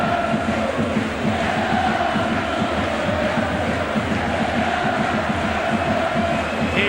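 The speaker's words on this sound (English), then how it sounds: "They will cheer their team off the field." A rugby league playoff crowd at Wigan versus St Helens, a dense, continuous roar of cheering spectators filling the stadium, steady and loud throughout.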